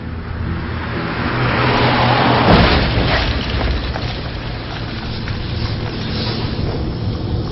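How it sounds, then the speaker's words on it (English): A Renault Laguna and a Ford Escort approach at speed on a British road, a broad rushing roar of engines and tyres swelling toward a peak then holding as a steady loud drone, with no voices. "A driver in a Renault Laguna and another in a Ford Escort are rapidly approaching the point where their lives will become inextricably linked"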